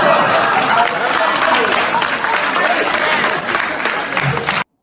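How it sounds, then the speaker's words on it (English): Audience clapping in a played recording, a dense, loud, continuous burst of applause that carries on for several seconds before cutting off abruptly. "They clap for that."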